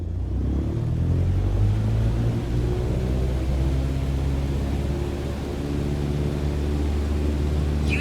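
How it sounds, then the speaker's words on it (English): In Microsoft Flight Simulator 2020, an aircraft engine runs at full takeoff power, a steady loud droning roar with low rumble that holds constant throughout, no voices. "Apply full power and I'll walk you through the takeoff as we go."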